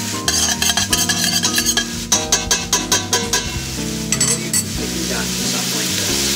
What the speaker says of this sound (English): Then we're gonna go with some red chili flakes. We like it spicy. Yeah, spice that up. All right. So we're gonna saute this.